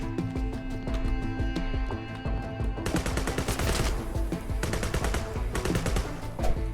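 Rapid bursts of gunfire in a ninja video game, dense and loud over game music, with volleys growing heavier and more sustained partway through.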